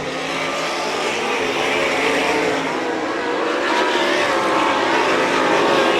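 Sprint cars race on a dirt track at St. Croix Valley Raceway, a loud, dense roar of engines at high revs that swells steadily across the whole clip.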